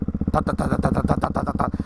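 A Hyper 698 motorcycle with a full titanium exhaust idles with a deep, lumpy exhaust burble, steady rhythmic pulses close by, loud and continuous with no talking.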